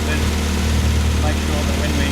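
An engine on a test panel runs at just under 1000 RPM, a steady, loud idle with a deep low hum that holds constant throughout.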